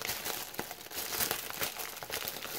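A cheap plastic packaging bag is crinkled and handled up close, giving quiet, rapid, irregular crackles throughout.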